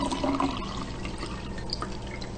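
Water pours steadily into a glass, a continuous close splashing trickle with faint dripping, no voices.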